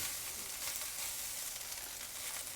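Fried rice sizzling in a hot wok in a domestic kitchen, a steady, dense, hissing crackle throughout at moderate level, with no talking.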